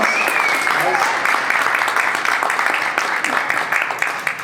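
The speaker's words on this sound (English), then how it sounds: "big applause" Audience applause at a musical premiere, a dense steady wash of clapping that fills the whole stretch at a fairly loud level, with a voice briefly audible over it.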